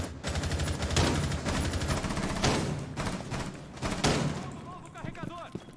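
Rapid bursts of automatic gunfire from the video game Rainbow Six Siege, close and loud, rattling almost without pause and spiking sharply around the middle, with people talking over the shooting.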